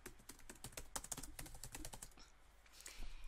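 Someone types a description on a computer keyboard: quick, quiet, even keystrokes, a short pause, then a few more taps.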